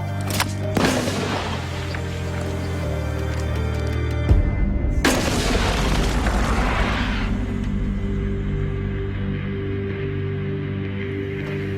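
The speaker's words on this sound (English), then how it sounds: "this one fires the grapnel and rope over 150 feet up the cliffs" A rocket-style mortar launches a grapnel trailing rope more than 150 feet up a sea cliff like the one at Pointe du Hoc, a sharp blast at the start and a second loud burst midway, followed by a sustained rushing roar.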